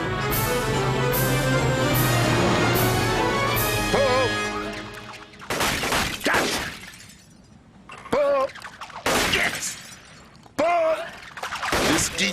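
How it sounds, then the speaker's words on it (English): Clay targets shatter in a cartoon skeet-shooting scene aboard a ship, several sharp crashing bursts following a tonal musical passage, with short spoken lines between them. "Skeet shooting is a real blast, Murphy."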